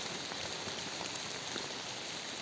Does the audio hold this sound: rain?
yes